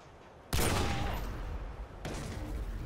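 Gunfire in a shooter video game: two loud, sharp blasts roughly a second and a half apart, each trailing into a long, rumbling decay.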